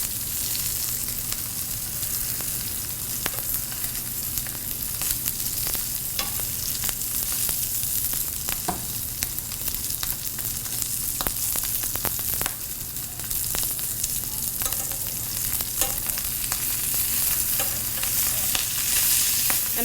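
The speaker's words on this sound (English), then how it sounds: "I'm pressing down all over the steak just to make sure that it's cooked thoroughly and evenly throughout the" A steak pan-searing as it is pressed down, giving a steady close sizzle and crackle with scattered sharp pops and spatters, continuing without talk.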